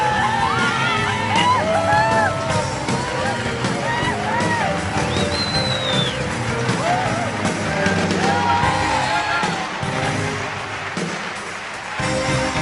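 A huge stadium crowd of some 80,000 roars, whoops and yells continuously throughout, a dense, loud wall of cheering with shouted voices rising above it and a brief dip near the end.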